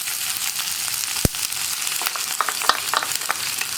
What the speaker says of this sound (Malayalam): നമുക്കിതിലേക്ക് ചതച്ച് വെച്ചിരിക്കുന്ന ഇഞ്ചി ആദ്യം ചേർത്ത് കൊടുക്കാം. ഇഞ്ചി ചേർത്ത് ഒന്ന് ചൂടായി വരുമ്പോൾ തന്നെ നമ്മൾ ചതച്ച് വെച്ചിരിക്കുന്ന ഉള്ളിയും കൂടി ചേർത്ത് കൊടുക്കാം